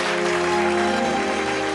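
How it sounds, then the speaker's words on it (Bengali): A studio audience at a Bangla television game show claps loudly in a dense, steady burst that fills the whole moment, with a faint musical tone running underneath. "আরে জোরে হাততালি।"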